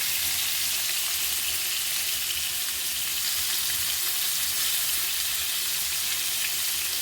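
Steady, dense sizzling of cutlets frying in a hot pan, continuous and close, with no talking.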